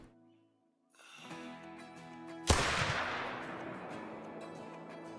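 A single loud, close shot from a single-shot 45-70 pistol in the hunting game Call of the Wild follows a quiet lead-in, then rings out in a long, fading echo.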